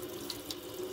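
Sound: tap water running into knife pivot while cleaning

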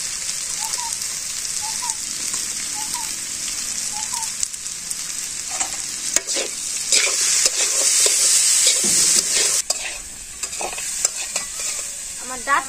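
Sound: frying stalks and potatoes with lentil powder and chili

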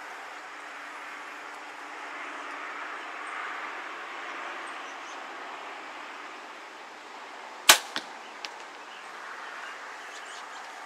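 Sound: 2023 Hoyt VTM 31 compound bow shooting arrow downrange

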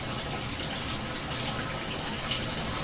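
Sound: water overflowing cups in hydroponic system

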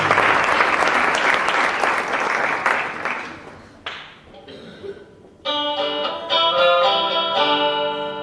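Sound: audience applause for Valerio Billeri

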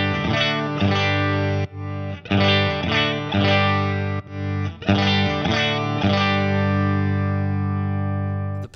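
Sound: instrument through Effectrode PC-2A tube compressor

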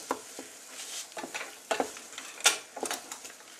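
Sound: shiitake mushrooms added to frying ginger-onion mix

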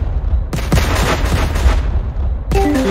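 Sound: explosion in Minecraft video game

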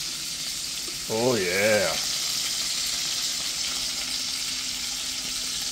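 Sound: food frying in a pan with grease, being flipped

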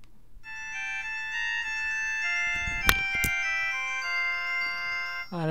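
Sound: smartwatch buzzing for an incoming SMS message

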